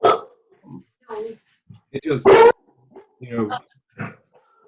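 Dogs barking, yipping and whimpering in short bursts mixed with a person speaking, with quiet gaps between.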